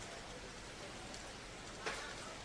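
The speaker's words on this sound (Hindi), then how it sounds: "अभी भी बारिश हो रही है" Steady rain falls on a market street in Siliguri, West Bengal, with hail mixed in, a constant broadband hiss of drops on surfaces and one brief louder splash near the end, no talking.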